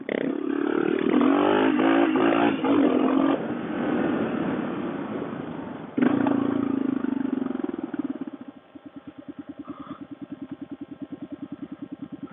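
Suzuki DR650 and Kawasaki KLR650 (Mikuni carb) single-cylinder dual-sport motorcycles pulling hard through the gears, a loud rising engine roar with a gear change midway, then a steady pulsing thump as the bike settles at lower revs.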